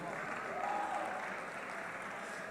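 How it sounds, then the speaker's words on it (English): Applause from the audience at the PUBG Mobile Africa Cup esports finals, a steady wash of clapping with a faint tonal whistle near the start, holding at even loudness throughout. "let's give him a round of applause"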